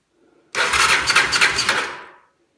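A 1986 Honda Fourtrax 350 ATV with the choke on cranks without catching after sitting a week, a close, loud burst of rapid starter churning lasting under two seconds, then stopping into silence.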